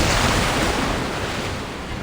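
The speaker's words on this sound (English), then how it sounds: "Watch out! The big waves!" A dense, roaring wash of crashing surf and wind in the video game Reverse 1999 fills the whole stretch, loud and unbroken, like big waves pounding close by.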